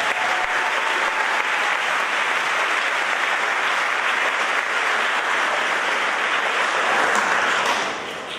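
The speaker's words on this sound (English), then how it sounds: "Please give them another round of applause." A large audience applauds the choir at a high school awards night, with dense, continuous clapping that holds steady for several seconds before tapering off at the end.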